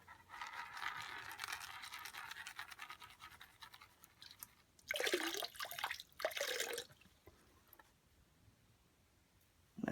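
Water sloshing and swirling as super-fine gold material is washed in a pan, with a long steady trickle followed by louder bursts of splashing and scraping near the microphone.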